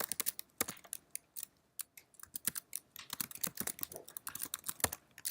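Fast typing on a computer keyboard at a desk: dense, uneven bursts of crisp key clicks with short pauses, close and clear, no voices.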